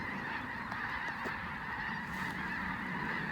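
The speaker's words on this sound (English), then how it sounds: "Maybe 80 snow geese flying over?" Many snow geese, about 80, honk together in a steady, overlapping chorus, the calls thick and continuous as the flock passes overhead.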